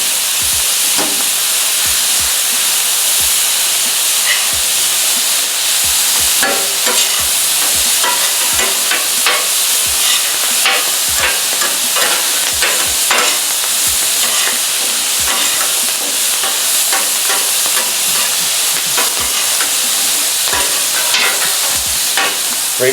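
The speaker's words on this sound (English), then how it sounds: "About to do the shrimp. There we go. 2 minutes each side for the shrimp." Shrimp sear on a Camp Chef FTG600 flat top griddle, giving a loud, continuous hiss and sizzle with scattered crackles and light scraping throughout, with no voices.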